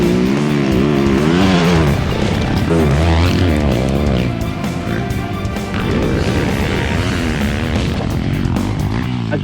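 Yamaha YZ450F motocross bike fitted with WP suspension ridden on a dirt track, its engine loud and close, revving up and down continuously throughout.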